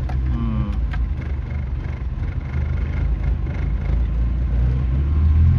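A used car's engine idles during an inspection, giving a steady low rumble and whir close by that grows slightly louder toward the end.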